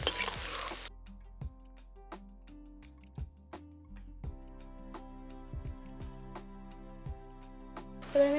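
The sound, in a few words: leafy greens being stirred in frying oil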